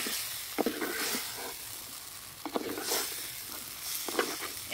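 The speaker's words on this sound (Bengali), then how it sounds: "মশলার সঙ্গে ভালো করে মিশিয়ে নেব।" Mushrooms stirred and fried with spices in a pan give a soft continuous sizzle. Several spatula scrapes and clinks stand out, close and quiet, with no voices.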